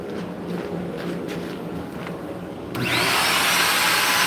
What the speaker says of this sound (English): It's like a normal little shop vac.